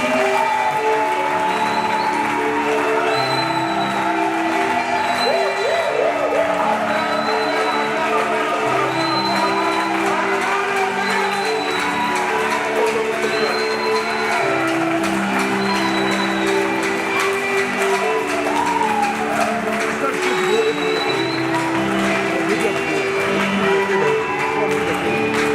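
A church congregation applauding in acclamation of the Lord during a French-language gospel service, with sustained, steady clapping, a few cheers and a musical backing beneath it throughout.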